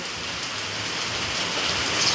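Steady afternoon rain falls in a broad, continuous hiss, fairly loud and close, with no voices over it.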